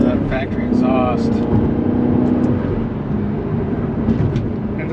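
A 2004 Maserati Cambiocorsa coupe with a 4.2-litre V8 and factory exhaust drones steadily from inside the cabin while driving, with a voice talking over the engine throughout.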